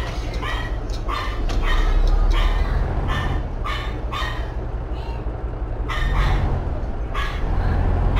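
A dog barks repeatedly in short bursts, sounding tinny and distant over a phone line, over a steady low rumble of truck background noise.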